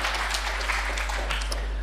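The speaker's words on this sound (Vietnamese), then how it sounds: "Hãy vỗ tay cảm tạ được Chúa Trời." A church congregation applauds at a Protestant service, a short, fairly loud burst of scattered clapping from a crowd over a low steady hum.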